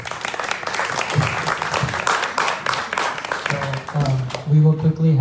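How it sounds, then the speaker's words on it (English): A crowd at a Hare Krishna Harikatha gathering breaks into dense, loud applause of many hands that carries on for several seconds, then thins out as a voice speaks over the tail. "please give a round of applause"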